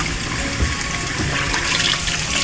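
Tap water runs in a sink while beets are washed clean, a loud, steady splashing gush close by, with no voices.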